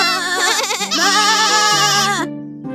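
Goats bleat loudly in a long wavering run of overlapping calls, close by, then stop abruptly.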